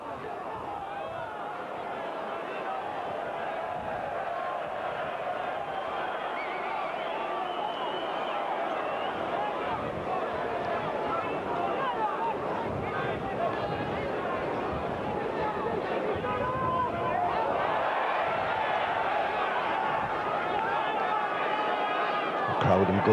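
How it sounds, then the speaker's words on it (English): A football crowd at a 1992 Sunderland home match against Port Vale sings and chants, a steady distant roar of massed voices swelling slightly toward the end. "Crowd in good voice"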